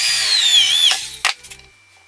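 Power drill boring holes through a metal seat mount for a Super 7 Locost kit car, a high whining bite that winds down and stops, followed by a couple of short clunks, close and loud.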